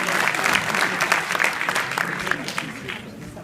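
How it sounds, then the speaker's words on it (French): An audience at a master class applauds steadily, dense clapping from a full hall throughout, with a voice speaking over the ovation. "Pierre, on applaudit."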